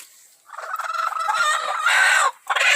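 Chickens on a farm flock of about 125 birds, including a broody hen, give loud, close calls in a continuous run for a couple of seconds, a brief pause, then another call.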